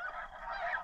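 Geese honk in a short burst during a duck and goose hunt in Alberta, a cluster of nasal calls at moderate distance with no talk over them.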